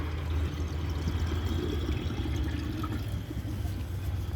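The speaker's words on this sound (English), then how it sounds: "let's add some water to the bowl" Water pours steadily into a bowl during a 1984 Kilgore Apex toy cap gun test, a continuous close splashing fill running unbroken, with no talk over it.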